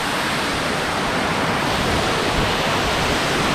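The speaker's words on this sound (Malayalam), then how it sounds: "ചെറിയൊരു വെള്ളച്ചാട്ടം" A small waterfall at Vattayi in Thrissur, Kerala, gives off a constant, dense rushing roar of falling water that stays even and close throughout, with no voices.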